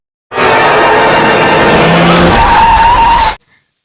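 A car's tires skid and squeal loudly on a road for about three seconds before it hits a person, then cut off abruptly into silence.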